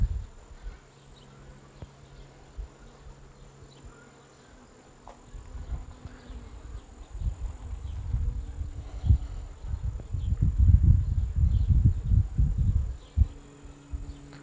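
Honey bees buzzing around an opened hive during an inspection, a low droning hum that is faint at first and then swells and thickens as more bees fly close, with nobody talking.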